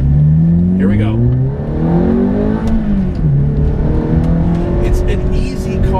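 A manual Ferrari F430 engine revs and pulls loudly while driving, its pitch climbing and dropping through the gears up close, with someone talking over the engine in places.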